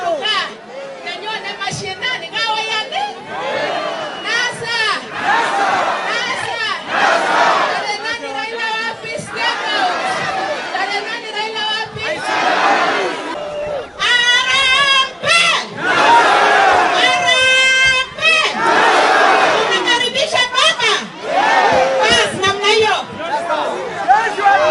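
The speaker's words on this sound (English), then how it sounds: "the opposition party led by Odinga is drawing huge crowds" A huge crowd at an opposition rally led by Odinga chants and shouts loudly and continuously, a dense roar of voices with rhythmic chanting throughout.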